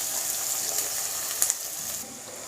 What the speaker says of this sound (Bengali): তেল গরম হয়ে গেছে, পেঁয়াজ ঢেলে দিলাম।